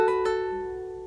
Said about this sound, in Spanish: hacemos un martillo con el meñique y un ligado